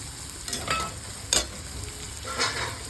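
Vertically sliced onions sizzle in a pan while browning, a steady close frying hiss broken by a few brief stirring scrapes, with no talking.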